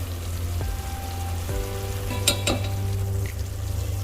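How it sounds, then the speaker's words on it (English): Ginger garlic paste frying in a prawn masala gravy, a steady low sizzle over a constant hum, with a couple of brief stirring clinks near the middle and no talk. "add 2 tablespoons ginger garlic paste"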